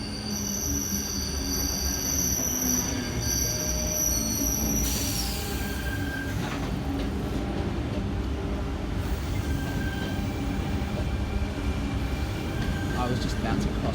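A Sydney train on a Bondi Junction service passes a station platform, its wheels squealing in high, sustained tones over a loud continuous rumble that shifts partway through.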